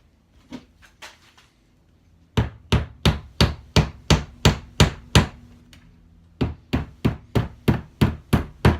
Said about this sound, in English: I'm gonna take a finishing nail, just hammer it in place, then bend it over